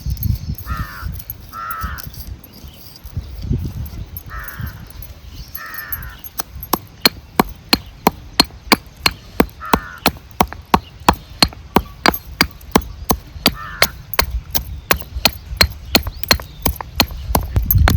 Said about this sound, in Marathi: हे आपल्या डाळी सगळ्या कुटायला घ्यायच्या